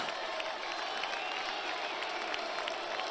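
Crowd applause in the video game Metaphor: ReFantazio, a fairly soft, even patter of many hands clapping that continues steadily without a break.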